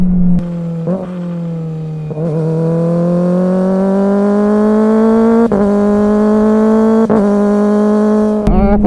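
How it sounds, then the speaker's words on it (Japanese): 250cc four-cylinder motorcycle engine with an aftermarket muffler, revving loud and close in a high-pitched wail that climbs through several gears, each shift marked by a brief dip before the pitch rises again. "加速音最高。 やっぱ250の4気筒のサウンドって気持ちいいっすね。"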